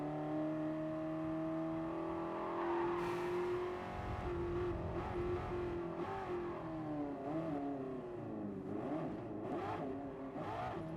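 A race car in Gran Turismo Sport on an FIA Nations warm-up session, its engine revving and climbing through gears with rising, falling pitch sweeps, steady and prominent with no talk over it.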